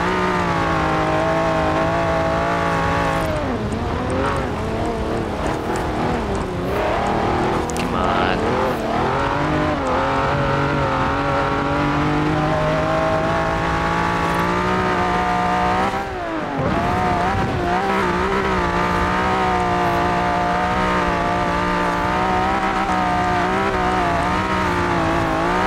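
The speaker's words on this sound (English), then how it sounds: "Really powerful engine, very good." A stock 1968 Ferrari 365 GTB/4 in Forza Horizon 4 drives under a powerful engine, loud and close throughout, with repeated rises and falls in revs, gear changes and a brief cut near the middle.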